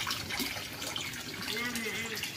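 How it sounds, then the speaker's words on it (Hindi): Water gushes into a home paddling pool, a continuous close splashing fill with a voice briefly heard in the background. "अभी अपने पूल में पानी भर रहा है"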